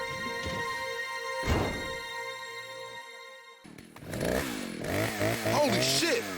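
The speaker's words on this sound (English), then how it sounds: "Tony pays the Diaz brothers a visit, and brings his friend Mr. Chainsaw." A chainsaw runs in the Scarface video game, a steady buzzing engine drone that gives way to shouting voices and louder combat noise midway through.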